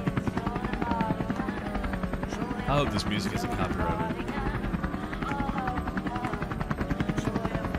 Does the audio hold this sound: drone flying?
yes